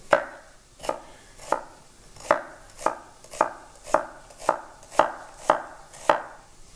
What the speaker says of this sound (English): We're just going to cut those nice and thinly.